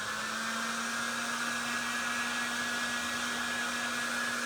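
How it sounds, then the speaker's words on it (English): Heat gun blowing hot air to reheat a WoodUbend decorative moulding on a gothic table project, a steady, loud, close whirring blower with a constant tonal hum and no speech. "I'm moving my heat gun in a circle constantly because I don't want to scorch my WoodUbend"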